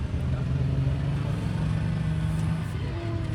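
A Ferret Mark I armoured car with a fixed turret rolls past at a Yorkshire wartime show, its engine giving a steady, moderately loud low rumble throughout.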